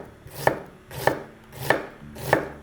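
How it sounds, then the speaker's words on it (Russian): A knife finely chops an onion on a board in slow, steady strokes, four crisp cuts evenly spaced, close by with no talking. "Теперь нарезаем мелко одну луковицу или половинку большой луковицы."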